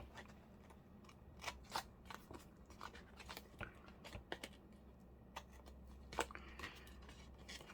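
Scissors snip through paper while trimming a junk journal memo board, a series of quick, faint crisp cuts and rustles spaced irregularly against quiet background.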